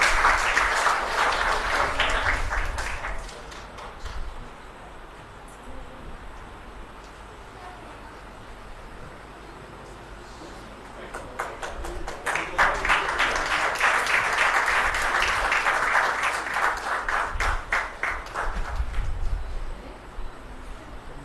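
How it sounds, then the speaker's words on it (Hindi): An audience at a ceremony with the President in Dehradun breaks into applause twice, a broad wash of clapping that fades to a quiet room and then swells again, loud and sustained. "जोरदार तालियों से स्वागत"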